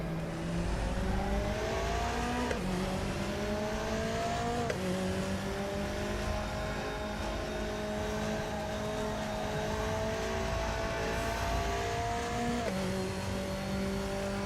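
McLaren race car engine in the RaceRoom racing game, a sustained high-revving whine that climbs through the gears with abrupt drops at each shift, loud and continuous.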